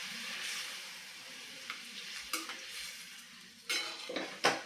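Stuffed brinjal cooking in a pan with a little water just added, stirred with a metal spoon. Soft scrapes and a few sharp clinks against the pan come over a faint simmering sizzle, close by and quiet.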